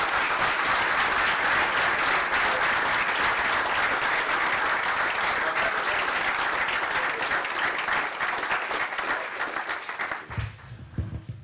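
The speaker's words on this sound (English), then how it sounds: "John Kerry, please give him a round of applause and welcome him to the podium." A convention audience applauds Senator John Kerry as he comes to the podium, steady loud clapping that fills about ten seconds before thinning out and fading at the end.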